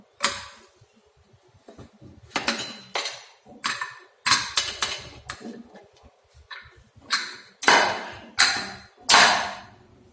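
A metal pressure cooker is opened after its whistles subside while cooking thatta payir rice in a kitchen, giving a series of sharp, close clanks and scrapes of lid against pot, irregular and separated by short pauses.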